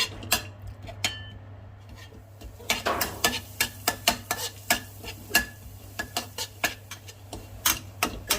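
Garlic and liver stir-fry in a pan, a spatula clacking and scraping in quick, uneven taps against a faint, low background hum, with no voices.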